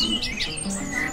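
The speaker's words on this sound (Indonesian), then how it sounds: "Burungnya bernama BC21." An orange-headed thrush gives a brief run of bright whistled chirps and slurred notes, fairly close and clear above a quiet background.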